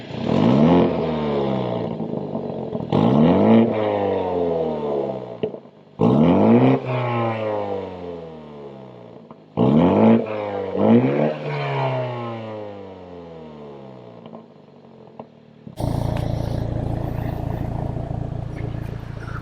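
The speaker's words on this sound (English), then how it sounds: "basically the exhaust sounds when revving in sport." BMW 330i with M Performance exhaust revving in sport mode: five sharp close revs that climb and drop back, each with a crackle, followed by a steady louder rumble at the end.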